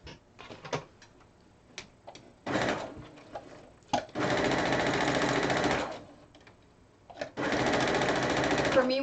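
A sewing machine runs in bursts stitching quilt seams, a close, rapid mechanical whir in two long runs, separated by clicks, handling taps and brief pauses, with a person talking at times.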